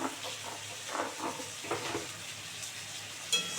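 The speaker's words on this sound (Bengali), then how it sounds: "এই যে দিয়ে এবার এটাকে ভালো করে কষাবো" Fish masala with cumin powder and Kashmiri red chili being sautéed in a pan gives a quiet, steady sizzle, with soft stirring scrapes and a brief clatter near the end.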